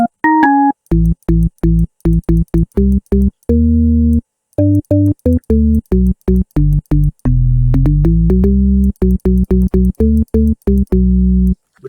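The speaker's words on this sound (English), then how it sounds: "Which sounds like the M1 organ, the original one from House." A Dexed FM preset resembling the classic M1 house organ plays a busy, rhythmic pattern of short, bright chord stabs with a few longer held chords, loud and up front with no talking.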